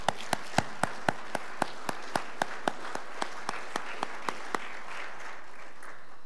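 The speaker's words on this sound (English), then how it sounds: "Let's give them a round of applause." A church congregation claps in a steady, slow rhythm for scouts, sharp distinct claps spaced evenly and gradually softening over several seconds in a reverberant hall.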